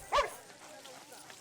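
Puppies being bathed give one short, sharp yip near the start, followed by a quiet, faint background.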